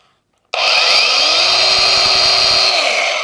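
Anbull brushless dual-battery angle grinder spinning up abruptly and running steadily at its highest speed setting, a loud continuous high-pitched whine with a faint rising motor tone, heard alone at close range.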